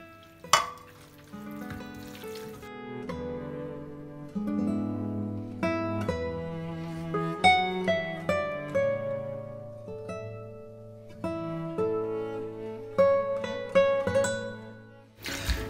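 Prawns, one kilo of them, stirred into hot masala in a pan sizzle and fry steadily, with occasional utensil knocks, beneath louder melodic background music.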